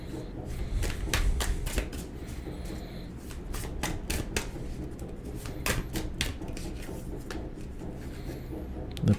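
Tarot cards shuffled by hand in a quick, steady run of crisp riffles and flutters, close and continuous with no voices.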